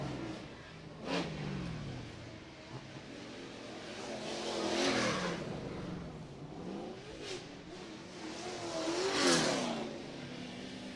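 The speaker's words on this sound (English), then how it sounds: "bring out the pace truck" A pace truck's engine revs and drones around a stock truck race track, with several rising and falling passes of the engine at moderate distance over a steady background.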